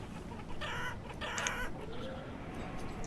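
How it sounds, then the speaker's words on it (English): Chickens cluck in short, close bursts in the video game Banished, several birds calling over one another against a steady background hiss. "Starting to get pretty full of chickens."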